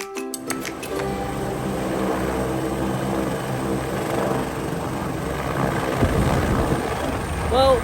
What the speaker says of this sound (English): Maybe that's the helicopter he's taking.